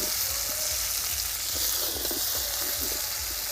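Green tomatoes frying in a pan, a constant close sizzle with soft stirring scrapes and light spatter throughout, no talking.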